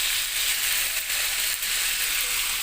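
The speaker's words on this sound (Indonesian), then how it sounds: "Jangan lupa dibalik dan digoreng hingga berubah warna menjadi kuning kecoklatan" Salted peda fish frying in a small amount of oil, giving a dense, continuous bright sizzle with crackling pops that stays loud and steady throughout, with no voices.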